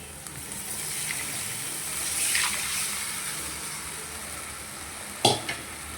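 Batter of besan is poured into a hot frying pan for zunka, giving a steady broad sizzle with a brief louder splash and scrape near the end, no talking.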